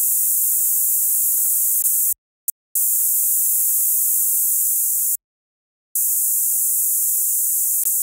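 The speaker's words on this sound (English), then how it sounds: "it gives us a clear top white noise layer on these chords" A synthesized white noise layer for synth chords hisses bright and steady, cutting out abruptly twice for brief silent gaps before resuming at the same level.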